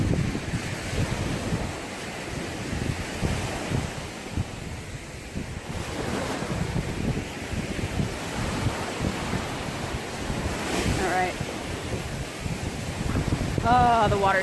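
Warm ocean surf washes over a sandy beach while wind buffets the microphone, making a continuous, rumbling wash of breaking waves that swells and recedes, close and fairly loud.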